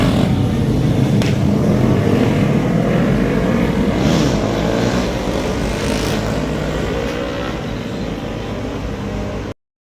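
Superbikes roar past on a street outside a hotel in Malaysia, a loud, continuous engine rumble that stays steady and close throughout before cutting off abruptly at the end.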